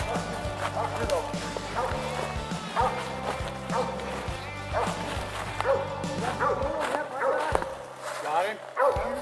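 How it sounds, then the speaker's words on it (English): A hunting dog barks repeatedly at a squirrel up a tree during a squirrel hunt, loud, close, rapid yips and bow-wows in an uneven run, with occasional whimpers. "Your dog's treeing up."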